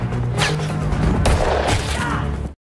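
A gunshot rings out in a tense film scene, a loud sharp blast followed by a second heavy report, both close and forceful with a rumbling tail before the sound cuts off.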